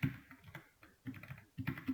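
Quick, soft keystrokes on a computer keyboard while entering a post title in code; irregular clusters of close, quiet clicks with brief pauses between bursts, no voices.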